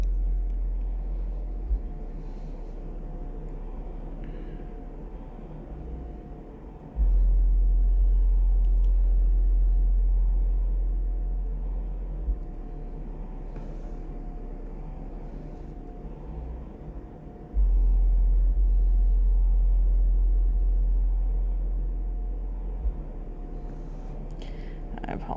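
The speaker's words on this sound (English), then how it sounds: "I apologize if you guys are hearing the car bass outside." Car stereo bass from a car parked outside, booming as deep, muffled low thumps that swell and fade in long sustained sections through the walls, beneath quiet room tone.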